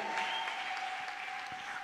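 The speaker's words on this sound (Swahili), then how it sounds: "alafu mpigie Bwana makofi mengi" Congregation at a church sermon applauding in praise of the Lord, a steady dense wash of clapping throughout, moderately loud, with a faint sustained tone running beneath it.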